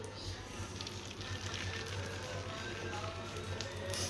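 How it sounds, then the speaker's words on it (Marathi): Uttapam batter hisses softly on a hot griddle, a faint steady sizzle with light tapping and a low background hum. "उत्तप्पा पहिला तव्यावर टाकते."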